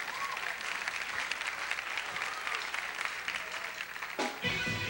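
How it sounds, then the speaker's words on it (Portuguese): A television studio audience applauds during a Raul Seixas tribute, with dense, sustained clapping for about four seconds before it breaks off and shifts. "Aplausos, senhoras e senhores, aqui Beto Lee, Otto."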